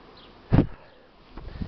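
A honey bee swarm caught without its queen crawls into a hive. A brief loud buzzing swell comes close by, then fainter humming returns against a quiet background.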